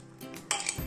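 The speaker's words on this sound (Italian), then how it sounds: "La intanto chiudo col coperchio." A glass jar of homemade strawberry jam being closed with its lid, a few close clinks and scrapes of lid on glass ending in a firmer knock, fairly quiet with no talking.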